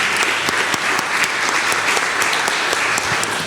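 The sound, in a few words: audience applause at a panel discussion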